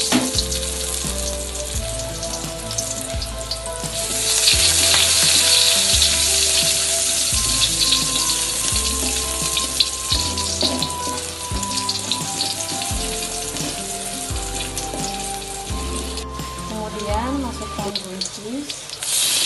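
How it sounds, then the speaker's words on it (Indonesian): Garlic and shallots sizzle in hot oil, a bright steady frying hiss that swells loud partway through, joined by clinks and stirring sounds and some background music. "Panaskan minyak, lalu masukkan bawang putih dan bawang merah."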